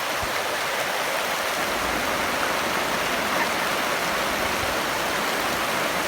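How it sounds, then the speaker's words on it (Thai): Steady rain pours down outdoors near a bamboo thicket, a dense, even broadband hiss that holds at the same loudness throughout with no voices over it. "ฝนก็ตกลงมาพี่น้อง"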